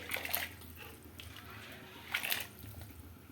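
Washed masoor lentils tipped into a pot of boiling water, producing two brief splashy pours, the first near the start and the second about two seconds later, over a quiet simmering background.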